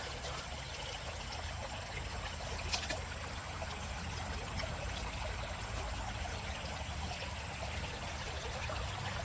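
A person and a dog step through shallow flowing water on a long leash, heard as a steady, close rush and trickle of moving water with faint splashes, and no one speaking.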